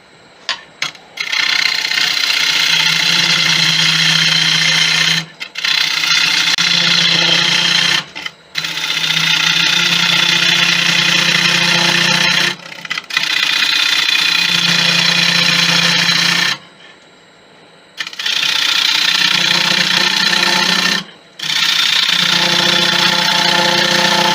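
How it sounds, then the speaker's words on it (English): Steady, loud mechanical whirring of a woodturning lathe with a rough, buzzing hum of a Crown Crio gouge on wood, running in long stretches broken by brief pauses. "the ability to hear your wood as you're turning it is very important"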